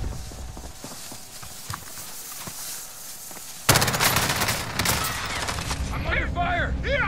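Video game gunfire erupts suddenly into a dense, rapid automatic fusillade that stays loud and close for several seconds, with scattered clicks and thumps before it and a brief voice near the end.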